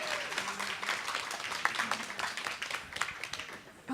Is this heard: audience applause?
yes